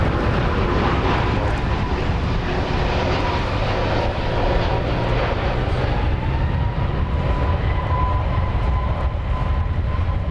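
A Boeing 787-9 Dreamliner airliner arriving from London Heathrow at Dallas/Fort Worth airport gives a steady, loud broadband jet roar that holds level throughout without pause.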